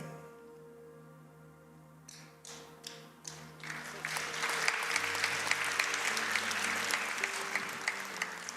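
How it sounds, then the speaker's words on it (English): A church congregation breaks into applause: a few scattered claps first, then a dense, sustained wash of clapping from many hands that swells and holds, with music softly underneath. "Not everybody's clapping."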